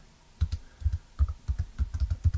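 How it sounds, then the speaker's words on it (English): A command is typed on a computer keyboard, a close run of quick key clicks in uneven bursts, moderately loud with no voice over them. "So you type sudo apt-get, that's apt-get,"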